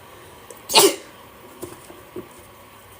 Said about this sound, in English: I just sneezed and got the chills for confirmation.